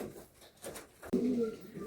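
Andhra pigeons coo softly and rhythmically at close range, with a louder burst of cooing near the end over low background noise.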